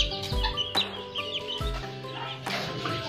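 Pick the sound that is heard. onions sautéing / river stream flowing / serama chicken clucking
serama chicken clucking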